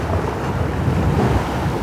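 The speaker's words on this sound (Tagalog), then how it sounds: "Ang lakas pa ng hangin, ang lalaki ng alon." Strong wind buffeting the microphone alongside big waves rolling in on the Laguna de Bay shore, a dense continuous roar with no voices.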